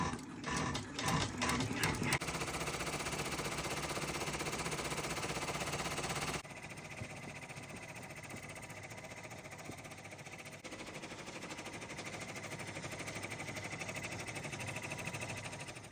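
An embroidery machine stitches a name onto a pillow in a loud, steady mechanical hum and rapid needle rattle. The rattle is busier at the start, then settles into a lower, even drone.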